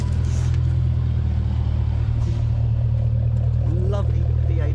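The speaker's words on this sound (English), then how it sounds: "Lovely V8 burble." Jaguar F-Type P450 V8 with a stainless sport exhaust and valves open, idling with a deep, steady, loud burble and a slight blip of revs near the end, close to the tailpipes.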